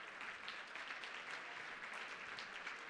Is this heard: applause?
yes